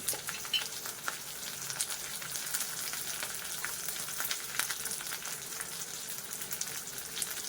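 Green chillies, curry leaves, cumin and mustard seeds sizzling in hot oil for a masoor dal tempering, a steady close crackle with scattered sharp pops and no talking.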